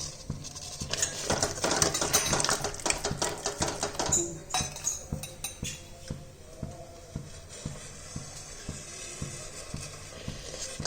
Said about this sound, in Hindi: तो अब मैं इसमें 1-1 चम्मच करके डालती जाऊंगी और इसे मिक्स करती जाऊंगी